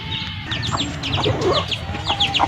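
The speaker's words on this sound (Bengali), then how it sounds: "গ্রামের মুরগি।" A village chicken clucks in short repeated bursts nearby, with other bird chirps and a soft rural background around it.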